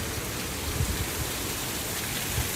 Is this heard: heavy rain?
yes